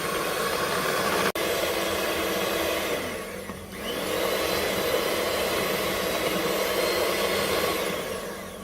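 An electric mixer whirs steadily while blending homemade ice cream, a loud continuous motor drone with a brief dip partway through, no voices.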